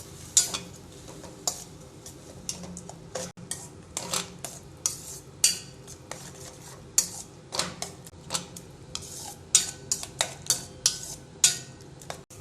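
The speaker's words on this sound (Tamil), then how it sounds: "நல்லா மிக்ஸ் பண்ணிக்கோங்க." A spoon clinks and scrapes against a metal pan while bread halwa with milk is stirred on the stove, sharp irregular taps and scrapes over a faint low sizzle, close and steady throughout.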